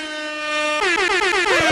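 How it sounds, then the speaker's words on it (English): An air horn sound effect blares loud and alone, a steady held tone that breaks into rapid pulsing blasts. "Let me cue up the air horn."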